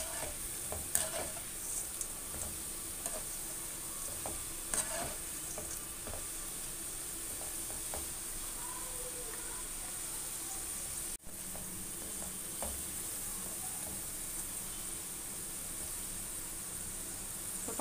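Onion pakoda fries in hot oil with a steady, close sizzle and scattered soft bubbling pops, continuing without talk.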